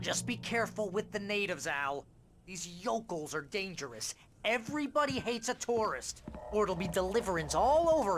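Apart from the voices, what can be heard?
No distinct noise like a dog, phone or traffic.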